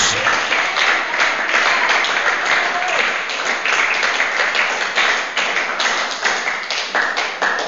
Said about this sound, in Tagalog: Palakpakan natin ang ating Diyos.